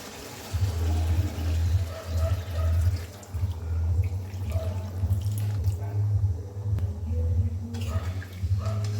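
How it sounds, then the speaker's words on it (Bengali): Warm water poured into a pan of Bengali jackfruit and prawn curry, a steady low gushing pour that runs for several seconds with slight wavering, close and fairly loud. "এবারে আমি কিছুটা উষ্ণ গরম জল দেব।"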